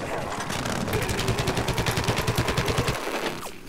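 Steady rapid-fire shooting in Plants vs. Zombies: Garden Warfare, a fast regular stream of shots for about three seconds, moderately loud, then stopping.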